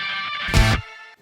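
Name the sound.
heavily saturated octaver guitar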